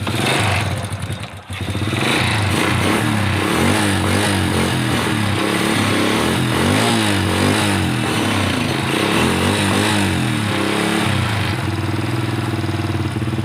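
A motorcycle engine with a failing spark plug and the choke on idles steadily with a rough, putting rhythm, loud and close, continuing without pause.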